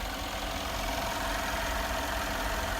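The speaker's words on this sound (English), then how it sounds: "Very powerful engine." The engine of a 2017 Mercedes-Benz AMG G63 luxury SUV idles with a steady, even low rumble and faint hiss, unchanging throughout and heard alone without talk.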